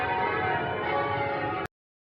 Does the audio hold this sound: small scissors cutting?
no